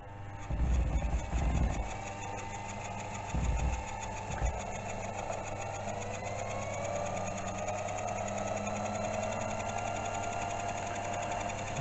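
A steady machine hum from drilling a 7.5mm hole for an 8mm thread, run at about 600 RPM, with a few low thumps early on, then an even, moderately faint drone for the rest.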